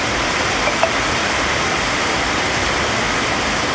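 Heavy rain pouring down in Pudukkottai, Tamil Nadu, a loud, dense, unbroken roar of falling water heard up close.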